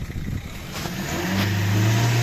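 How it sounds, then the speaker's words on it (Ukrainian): A 2013 Renault Scenic's turbocharged engine revs up during a used-car inspection, the pitch climbing and holding high and loud near the exhaust. "А ну погазуйте, я гляну вихлоп."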